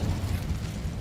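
A fiery Incendio spell blast in the video game Hogwarts Legacy, a low, roaring burst that rumbles steadily with no speech over it.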